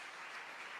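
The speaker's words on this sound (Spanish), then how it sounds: "Fuerte ese aplauso al Señor" A church congregation applauds together, a dense, steady wash of clapping that fills the whole short moment without a break.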